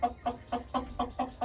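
Blue laced red Wyandotte and speckled Sussex hens cluck close up in a backyard flock. Six or seven steady, evenly spaced clucks follow one another in a quick rhythm with no talk.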